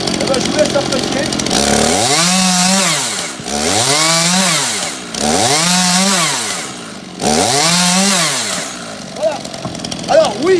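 A chainsaw-type cutting device bites into wood in four long, loud passes, each rising and falling in pitch as the blade loads and frees, separated by brief idle gaps.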